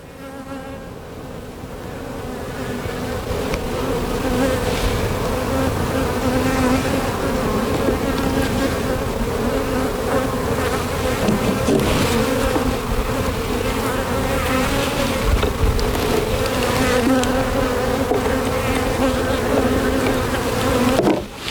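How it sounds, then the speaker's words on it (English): Honey bees swarm over a hive frame holding brood and drone cells, giving a loud, dense, steady buzzing hum that rises in the first seconds and then holds without a break, close to the microphone. "This one has a lot of bees."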